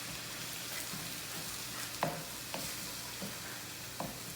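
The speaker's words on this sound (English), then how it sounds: "And this is gonna simmer for about 5 minutes." A shrimp-and-grits sauce with half a cup of almond milk simmers in a pan, making a faint, even bubbling hiss. A few soft spoon taps and scrapes break it up, with no voices.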